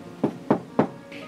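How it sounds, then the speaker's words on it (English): Three firm knocks on a wooden cottage door, evenly spaced and close, followed by a brief softer rustle, with no voices. "knocky-knocky-knocky on the door"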